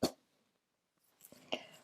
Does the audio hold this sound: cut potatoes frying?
no